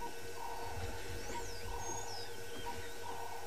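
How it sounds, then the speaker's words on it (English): Doves coo softly in the background on a morning safari, repeated mellow calls over a steady low hum, with faint higher bird whistles drifting above. "in the background you can just hear some doves making some musical calls"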